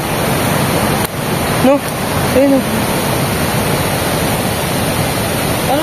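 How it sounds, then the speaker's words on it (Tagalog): Steady, loud rush of a waterfall fills the whole stretch, with a few brief spoken words over it. "Pero malakas yung tubig."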